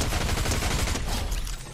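Dense, continuous automatic gunfire from a Fortnite match, a loud sustained burst of rapid shots with no pauses across the whole stretch.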